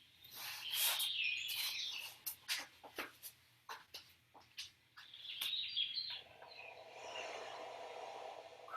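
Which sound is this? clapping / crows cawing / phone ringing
crows cawing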